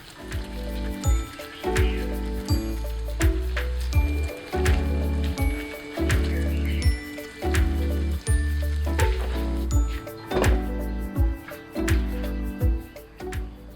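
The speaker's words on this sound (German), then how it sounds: "Teigkugeln portionsweise zu je 5 Stück in das heiße Fett geben und zugedeckt in 1 bis 2 Minuten goldbraun frittieren" Dough balls for Portuguese Berliners deep-fry in hot fat in a covered pan, giving a steady close sizzle broken by repeated clinks and knocks of utensils and lid.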